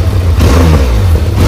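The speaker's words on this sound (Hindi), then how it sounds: "इसके एग्जॉस्ट का साउंड कैसा है" A Benelli TRK 502 motorcycle on its stock exhaust revs close by in a short, loud blip of engine note over a low idle rumble.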